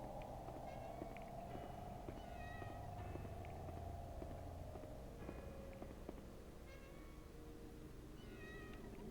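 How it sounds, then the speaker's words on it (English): A cat meows repeatedly inside the PS2 horror game Haunting Ground. The short meows recur throughout, moderately loud, over a steady low ambient hum and scattered footstep-like thuds, with no talking. "I'm definitely hearing a cat."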